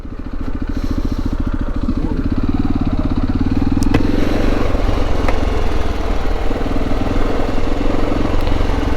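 A motorcycle engine runs nearby in a littered spot, a loud, steady low throb throughout with a faint knock partway through.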